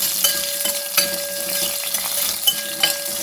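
Coriander, chili, shallots, curry leaves and grated coconut dry-roast for a masala in a pan, giving a soft, steady sizzle broken by sharp clinks and scrapes from a stirring spoon. No voices.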